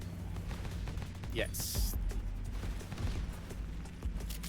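Gunfire and explosive bursts from the vehicle roguelite game Champion Shift crackle at mid distance under steady background rumble, with a person talking over the action.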